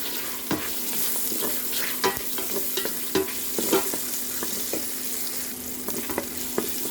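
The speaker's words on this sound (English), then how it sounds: "Let's fry our ginger" Ginger sizzles and fries in a pot, with a steady hiss broken by frequent sharp crackles and a few stirring scrapes, close and fairly loud, with no talk.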